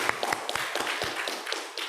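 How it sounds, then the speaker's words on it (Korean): Scattered hand claps from a small church congregation during a Korean Sunday service at Bloomington Korean Church, welcoming returning visitors, with distinct individual claps in a loose, uneven rhythm at moderate distance. "여기 박수로 환영합니다"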